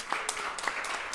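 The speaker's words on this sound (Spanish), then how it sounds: "vamos a recibirla con un aplauso" An audience at a book talk on Casa Pueblo applauds to welcome the poet Mariposa, a brief burst of scattered clapping at moderate loudness.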